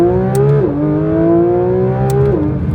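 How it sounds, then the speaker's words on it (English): A car with a stock exhaust revs hard and loud nearby, its engine note climbing and dropping through a couple of gearshifts in a steady, smooth drone. "This car sounds so good. It's actually nuts. And it's got a stock exhaust."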